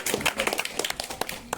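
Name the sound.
audience applauding to welcome a speaker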